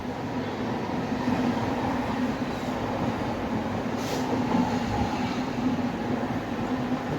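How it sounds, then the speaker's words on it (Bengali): A train rolls past outdoors in a steady, continuous low rumble with a faint rhythmic rattle of the cars, holding at an even level throughout with no talking. "ট্রেন যাচ্ছে এখন"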